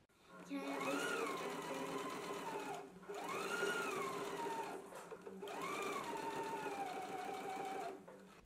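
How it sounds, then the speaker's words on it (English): A sewing machine runs in three long bursts of steady, whirring stitching, each rising in pitch then settling, separated by brief pauses. "we can go to the sewing machine now"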